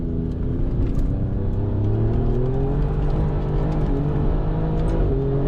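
An Alfa Romeo Giulia Quadrifoglio drives on a race track, its engine holding a loud, steady, close-up note with gently rising pitch and an underlying rumble.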